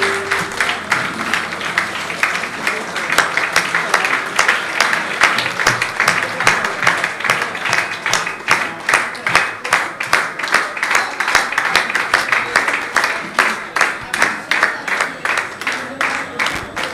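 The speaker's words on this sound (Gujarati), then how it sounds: "બધા દરેક પોતપોતાના સ્થાન ઉપર ઊભા થઈને લાલજી મહારાજને તાળીઓથી અભિવાદન કરીશું." An audience stands and applauds to welcome Lalji Maharaj at a youth religious gathering, with dense continuous clapping from a large crowd filling the hall, steady and fairly loud throughout.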